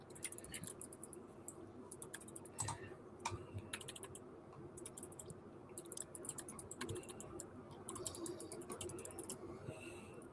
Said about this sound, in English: I was just typing something out